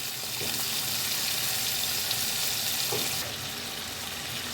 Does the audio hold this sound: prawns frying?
yes